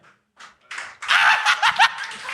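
Studio audience bursting into clapping mixed with laughter and whoops, starting with a few scattered claps before swelling into loud, dense applause that pulses for over a second.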